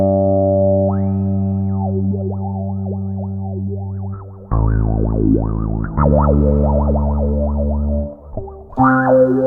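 A bass guitar runs through a Ghost pedal with a stepped random LFO filter and high resonance, sustained notes with a filter that jumps unpredictably in bleeping, wobbling steps, loud and close.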